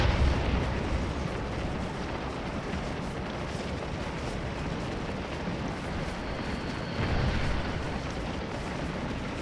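Cannon fire from artillery batteries in Scourge of War: Antietam, a dense, continuous rumble of distant booms blending into a broad roar of battle.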